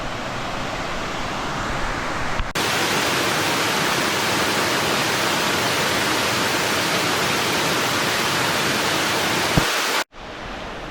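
A waterfall roars as a loud, unbroken broadband rush, steady throughout with a brief dip and change in tone near the start and end, and no voices.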